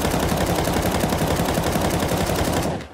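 Sustained automatic gunfire from Counter-Strike 2 with the follow-recoil crosshair option enabled, a loud continuous burst of rapid shots lasting nearly three seconds before cutting off abruptly.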